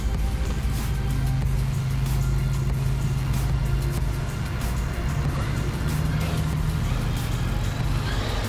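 Traxxas X-Maxx 8S 4x4 RC monster truck motor whines steadily and loudly up close, with a constant electric drone and no clear pauses.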